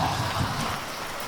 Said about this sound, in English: we've now got a tiny little spot of rain